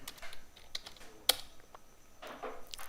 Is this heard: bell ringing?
no